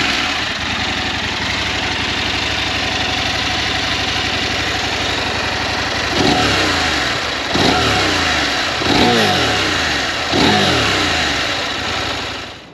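A KTM 890 Adventure motorcycle engine idles steadily, then is revved four times in sharp, rising bursts, each dropping back to idle; close and loud.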